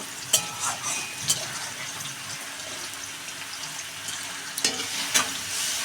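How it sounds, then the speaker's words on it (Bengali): Paneer cubes fry in oil in a pan, a moderate crackling sizzle punctuated by a few sharp clatters and pops as the pieces are turned, with no speech. "সব কটা পনির এখন ভেজে নেব তো পনিরগুলো আমি এখন এইভাবে উল্টে পাল্টিয়ে একটু করে ভেজে নিচ্ছি"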